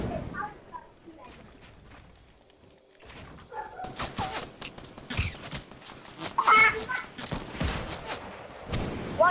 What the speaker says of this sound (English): Why are you trying to shoot me?